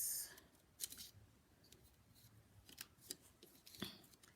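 Scissors snipping slits into a card, a few quiet crisp cuts spaced irregularly over a soft background.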